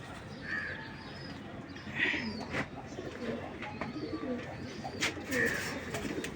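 Giribaj pigeons, a matched pair of old-line breeding stock, coo softly and intermittently in the background over a steady ambient hiss, with a few faint bird calls mixed in.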